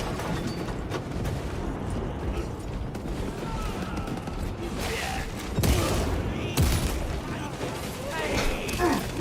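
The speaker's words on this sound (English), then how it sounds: "A bolt gun shooting humans." A bolt gun fires at enemies in the Space Marine 2 campaign, with heavy bursts and mechanical clatter under constant battle noise, sharper loud shots near the end, and a voice talking over it.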